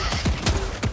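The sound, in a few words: gunfire in the video game Helldivers 2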